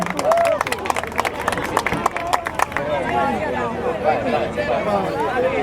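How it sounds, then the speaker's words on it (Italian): Audience applause at a carnival float awards ceremony in Torregrotta: a burst of crowd clapping over lively chatter that tapers off after a few seconds, leaving a murmuring crowd and voices. "Un applauso."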